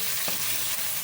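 Ground pork sizzles loudly in a hot pan while being stirred and browned. A dense, continuous frying hiss fills the short moment, with faint scraping from the stirring.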